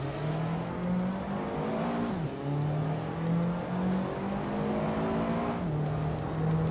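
A 1995 Ford Escort RS Cosworth races in a video game, its engine droning steadily with rising pitch through the gears, two gear changes dropping the tone, loud and close with no talking.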